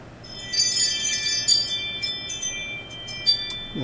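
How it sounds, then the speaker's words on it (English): A Ring wireless doorbell chime rings out in a quiet room, a bright electronic tone with lingering ringing partials, followed by a few fainter repeated tones. "That is my Ring wireless doorbell thingamajabby."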